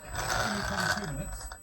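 An Arrma Kraton EXB RC car motor revs up briefly under throttle with a whining electric hum, close and moderately loud, while someone speaks over it.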